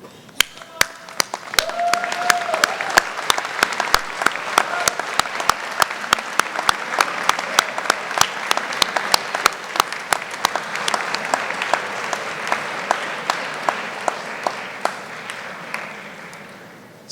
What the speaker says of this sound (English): Students, please rise and face the people most important in your life and applaud them